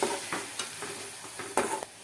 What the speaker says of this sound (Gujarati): આપણે એક ચમચી જેટલું પાણી નાખી દેશું અને સારી રીતે મિક્સ કરી દેશું